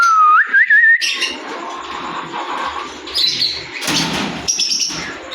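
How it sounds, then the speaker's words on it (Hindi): Pet parrots and lovebirds in a home cage setup flutter their wings in quick bursts and give sharp whistled chirps, heard up close with no speech. "वो ये है जी हमारा तोते का सेटअप।"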